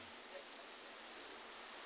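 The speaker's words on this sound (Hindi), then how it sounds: "तो काफ़ी अच्छी सी बारिश हो रही है" Steady rain falling outdoors, a dense even hiss of drops with no breaks, moderately quiet and alone.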